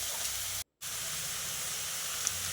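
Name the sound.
bottle gourd pieces sautéing in oil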